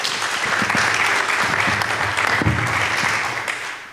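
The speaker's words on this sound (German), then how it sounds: "Das war ja nicht für mich der Beifall." Audience applause at a local election event in Timmendorfer Strand, a dense, steady clatter of many hands clapping at once, loud and close, holding for several seconds before thinning slightly at the end.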